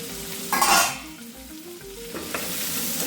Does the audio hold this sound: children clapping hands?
no